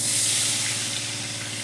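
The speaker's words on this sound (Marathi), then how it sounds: "आता आपण याच्यात पाणी टाकून घेऊयात।" Water is poured into a hot pan of fried green chillies while cooking a fasting-day dish. It gives a loud, steady, close hiss of sizzling and steam that fades slightly over its short length, with no talking.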